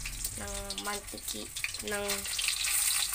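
Food fries in hot cooking oil with a bright hiss and crackle that builds toward the end, while someone speaks briefly over it.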